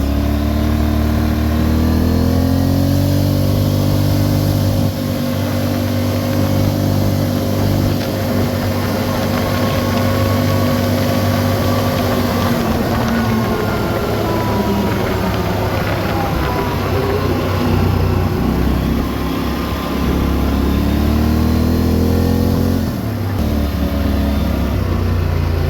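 A 2019 Polaris Sportsman 850 ATV engine runs steadily and loudly up close, holding a constant drone with mild swells as the throttle rises and falls, and no voices.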